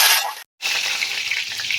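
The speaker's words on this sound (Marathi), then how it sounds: "कढीपत्ता टाकणार आहे," Curry leaves drop into hot oil for tempering a bitter gourd dish, giving a loud bright sizzle and crackle that cuts out briefly, then resumes as a steady frying hiss.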